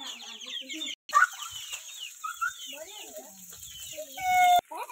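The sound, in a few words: chicken clucking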